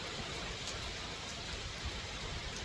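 Morning rain falls steadily outside a rented room, a constant soft hiss of drops with no breaks and no voices.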